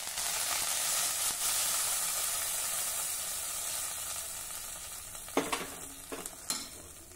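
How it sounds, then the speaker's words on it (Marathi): A hot tempering of turmeric and curry leaves hits urad dal dumplings with a steady, bright sizzle, then a few sharper spitting bursts near the end, close and fairly loud. "ह्यावर ही तयार फोडणी घालूया"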